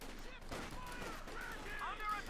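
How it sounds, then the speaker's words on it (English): Gunfire in the video game Company of Heroes 2, a faint distant rattle of rifle and machine-gun bursts under a spoken voice. "Bit shooting going on."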